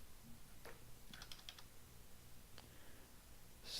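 Faint typing on a computer keyboard, a few scattered soft key clicks over a quiet room hiss, with no talk.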